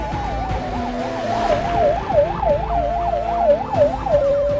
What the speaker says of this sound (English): I'm barely seated in the back of the car when the sirens start blaring.